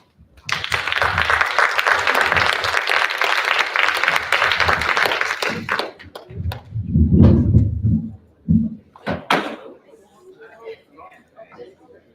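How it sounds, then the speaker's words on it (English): Audience at an alumni association homecoming meeting breaks into loud, sustained applause for about six seconds, then fades as someone speaks over scattered claps. "I think we all owe them an applause"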